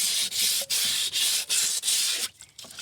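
Rust being sanded off metal by hand with a strip of 120 grit sandpaper, a steady rasping scrape in repeated strokes with brief gaps between them, loud and close, tapering off near the end.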